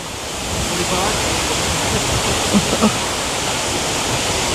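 Steady, loud rushing roar of waterfalls at Milford Sound, New Zealand, a continuous broadband wash with a couple of faint knocks.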